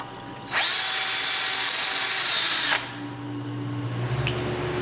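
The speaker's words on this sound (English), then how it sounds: "I heard the drill bit kind of catch a little bit." A power drill bores through metal on a Dodge Grand Caravan lower ball joint, giving one loud, steady high whine of about two seconds that starts and stops abruptly, with no talk over it.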